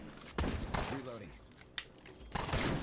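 Video game enemies shoot at the player in short bursts of gunfire, sharp cracks separated by pauses, with a voice speaking between the shots.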